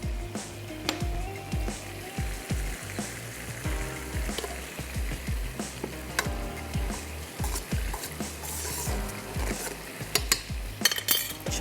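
Daal gosht stirred in a pot with oil, with scraping spoon strokes, clinks against the metal and a soft sizzle running underneath, moderately close and steady.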